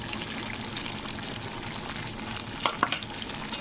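Ghee and a little sugar go into a simmering fish-head and cauliflower curry, giving a steady close sizzle and bubbling with stirring scrapes and a couple of brief clinks near the end.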